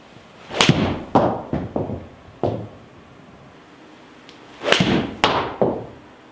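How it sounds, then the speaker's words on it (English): Golf shots struck with Honma TW747 VX irons: a series of sharp, crisp ball strikes, several clustered, then a pause before a few more, each a quick clean crack with no talking. "that is 8 shots hit with the Honma TW747 VX"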